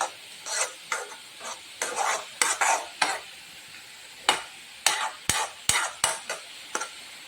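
A spoon stirs banana stem stir-fry with ground coconut paste in a pan, giving repeated close scraping strokes with soft sizzling, in short irregular bursts separated by pauses, no talk.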